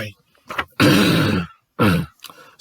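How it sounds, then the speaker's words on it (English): A person clears their throat loudly and close up, two gravelly bursts with a short pause between. "Just clear my throat like I always do before I'm ready to read a poem."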